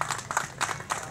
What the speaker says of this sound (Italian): Facciamo un applauso a Michele Arcangelo Armenis.